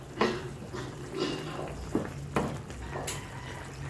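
Chicken curry simmering in a pot at home, with soft bubbling and scraping stirs of a utensil against the pot, a few sharp clinks, and a person talking over it.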